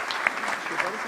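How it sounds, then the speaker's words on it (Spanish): Brief, moderately quiet clapping greets a guest at an economics talk, a short patter of hands with a few sharper claps standing out. "lo recibimos con un fuerte aplauso"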